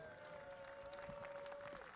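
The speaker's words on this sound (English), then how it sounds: "Give yourself a round of applause right now." A rally crowd applauding, with clapping spread across the whole stretch, fairly distant and steady, and a sustained electronic tone running underneath.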